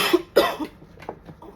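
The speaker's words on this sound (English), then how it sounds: "I just had a cough attack" Two sharp, close coughs in quick succession from someone speaking to camera, followed by a few softer throat-clearing sounds and breaths.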